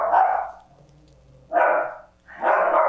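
Dogs bark in three loud bursts, the first and last longer, with short quiet gaps between them and a faint whimper-like tone in one lull.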